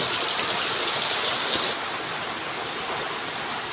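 Dense, steady roar of heavy rain pouring down, loud and continuous with no voices, easing slightly partway through.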